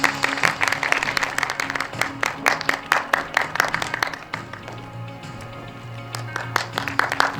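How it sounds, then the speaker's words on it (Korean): An audience at the Korea Virtual Human Industry Association's December 2024 annual general meeting applauds to welcome a professor's lecture: dense, steady clapping over background music that fills the room for several seconds. "교수님을 큰 박수로 모시겠습니다."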